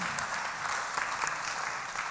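Steady applause from a room full of people, continuous clapping at an even level with no voices standing out.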